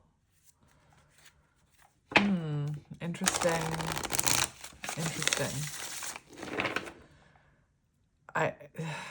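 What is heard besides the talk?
shuffling tarot cards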